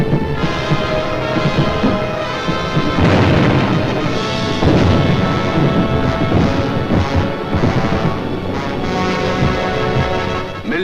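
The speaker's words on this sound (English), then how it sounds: "Millions of firebombs rained down on the great city of London." Wartime bombing of London, firebombs falling across the city in a dense, continuous roar of crashing explosions and rumbling booms, loud and sustained with heavy bursts layered throughout.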